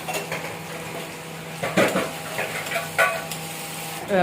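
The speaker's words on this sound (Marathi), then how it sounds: "इकडे ताई भांड्यांचं काम करत आहे." Pots, pans and dishes being washed in a cluttered home kitchen, with steady clattering and a few sharper clanks of metal vessels knocking together, fairly close and without talk.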